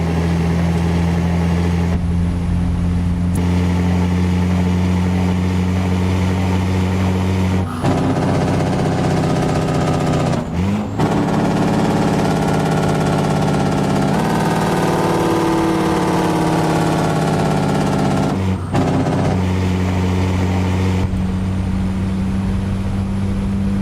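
A truck engine idles outside with a loud, steady low rumble and mechanical rattle, interrupted by a few abrupt shifts in tone as the sound changes and returns, with no talking.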